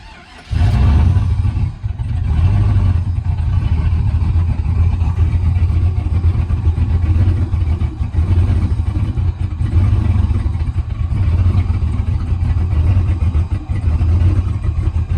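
A car engine newly fitted with a Holley Terminator X fuel injection system starts and runs at a loud, close, steady idle with slightly high RPM, a low rumbling roar with faint clatter and no talk over it.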